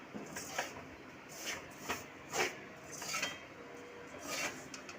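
A spoon scrapes and stirs black urad dal flour roasting in a pan, making soft intermittent scrapes and light metallic clinks at an uneven rhythm, close and fairly quiet.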